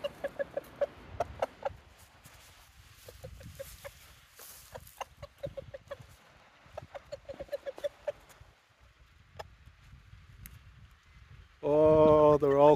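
Chickens cluck outdoors during a hike at Curbar Edge, in bursts of short, sharp, repeated clucks at close range, with a person talking among them before a loud rumbling noise near the end.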